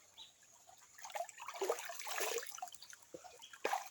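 River water in Jamaica rushes and trickles in a steady, fairly soft wash that swells in the middle and ends with a brief splash, with no voices.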